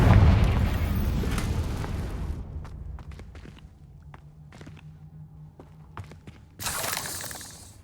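A Confringo spell blast bursts loudly in Hogwarts Legacy, a dense roar that fades into scattered crackles and small debris hits, then a second sharp burst near the end.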